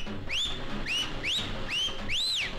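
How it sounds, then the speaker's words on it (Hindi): Repeated whistle blasts from a train cleaner's whistle in a Kannada action film dubbed into Hindi: five rising, bending shrill tones in quick succession, loud and clear, with no talk over them. "तुम सीटी बजाओ"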